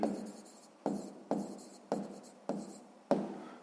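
A pen scratches out a sixth-grade math solution in six distinct strokes, each a sharp scrape that fades off, spaced at fairly even intervals and heard up close with no voices.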